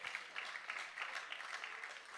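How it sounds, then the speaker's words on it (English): A church congregation claps together, a soft, fairly distant patter of many hands in uneven swells that continues throughout. "Yeah, it's okay, you can clap for God."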